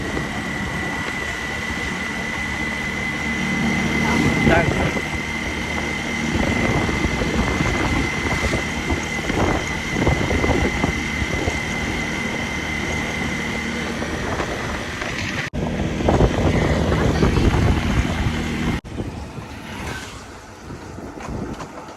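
A KTM Duke 250 gen3 motorcycle rides at an easy pace along a road, its engine and wind noise forming a continuous close roar that drops away abruptly near the end.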